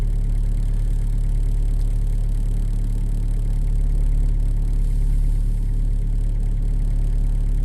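A Volkswagen Polo 6N engine idles in a garage during fault diagnosis, a steady low hum with faint rumble throughout, no revving spikes and no voices.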